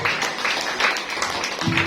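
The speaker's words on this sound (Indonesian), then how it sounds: "Ayo yang setuju tepuk tangan bagi Allah." Church congregation clapping together during a sermon, a dense, mid-level patter of many hands with the ring of a large room, lasting briefly without pause.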